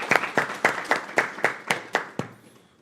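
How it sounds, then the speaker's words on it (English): Hands clap in an even, quick rhythm at a devotional home gathering, about eight sharp claps in under three seconds that fade out at the end, with no talk over them. "Let's give them a round of applause for kindly inviting us together."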